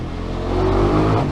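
A motorcycle engine revs loud and close, its steady roar swelling slightly and echoing off surrounding walls, with no talk.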